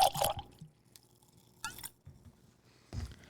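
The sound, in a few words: Ardbeg Corryvreckan whiskey poured from bottle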